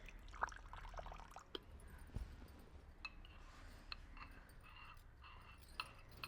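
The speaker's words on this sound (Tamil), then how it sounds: "இதுக்குள்ளே கொஞ்சம் தண்ணி சேர்த்து மிக்ஸ் பண்ணி எடுப்போம்." Water trickles and drips into 400 grams of condensed milk for a broken glass jelly pudding, with faint, close, scattered liquid splashes and light clinks over a quiet room.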